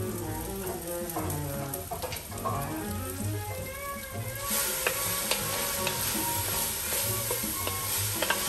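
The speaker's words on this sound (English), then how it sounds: "Give that a little stir" Sausage and onions seasoned with black pepper frying in a pan and stirred with a wooden spoon, a loud continuous sizzle with soft scraping strokes, growing brighter partway through.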